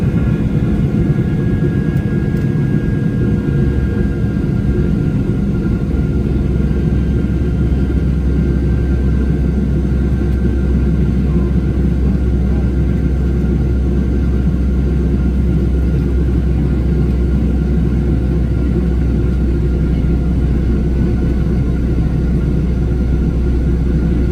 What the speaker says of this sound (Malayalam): കുറച്ചും കൂടി നേരം ഫ്ലൈറ്റിൻ്റെ സൗണ്ടൊക്കെ കേട്ടോ.